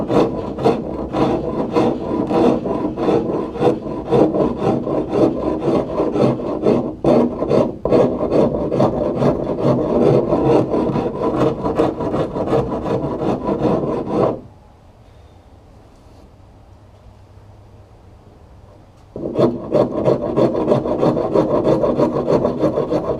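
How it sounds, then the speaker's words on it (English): A power tool grinds steadily against a wooden boat transom to knock down high spots, a loud continuous rasping drone with brief dips that stops for about five seconds, then resumes. "I'm going to try and use power tools to do it a little quicker."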